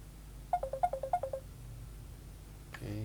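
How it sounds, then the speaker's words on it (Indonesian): A phone rings for an incoming call, giving a quick run of about ten bright electronic chirps in a rapid rhythm, fairly close. A short sound follows after a pause. "karena telepon masuk ya"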